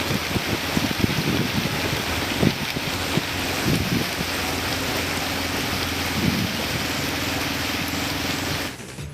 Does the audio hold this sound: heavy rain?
yes